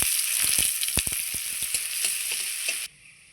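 Chopped onion hits hot oil with a bay leaf in a pan where potatoes were just fried, producing a loud steady sizzle with stirring clicks that cuts off abruptly near the end.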